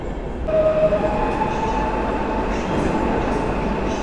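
A PKP Intercity electric multiple-unit train rolls into a station, a steady loud rumble of wheels and motors with a faint tonal whine, continuous throughout and no voices.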